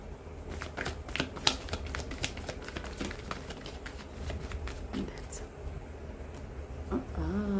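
Tarot cards shuffled by hand, a rapid run of light riffling flicks and soft taps repeating over several seconds, with some quiet background noise.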